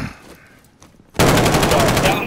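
Call of Duty Modern Warfare gunfire cuts in suddenly after a quiet stretch, a loud rapid automatic burst of closely spaced shots that keeps rattling to the end.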